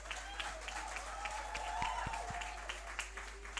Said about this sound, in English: So, big round of applause for all of you.